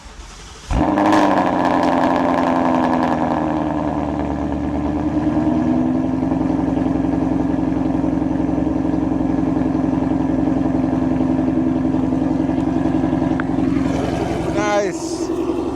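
Ford Mustang with a previously blown-up engine cranks and fires, then runs loud and steady close by at a rough idle for many seconds, with brief talk near the end.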